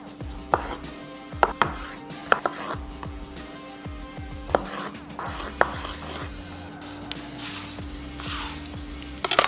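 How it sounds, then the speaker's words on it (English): A knife slicing cherry tomatoes in half on a cutting board, a rapid run of crisp, close chopping taps with a steady low hum underneath. "All I'm gonna do is slice them in half."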